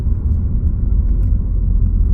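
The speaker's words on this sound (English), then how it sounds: "So the car pulled away very nicely there." A Ford Focus ST-3 2.0T EcoBoost petrol manual hatchback drives along with a steady, close low engine and road rumble, heard alone without talk.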